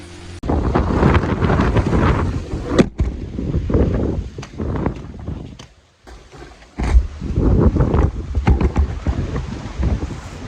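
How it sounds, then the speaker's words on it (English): Strong cold wind gusts in single-digit temperatures, buffeting the microphone in loud roaring bursts that drop briefly to a lull midway before surging again. "This wind is brutal."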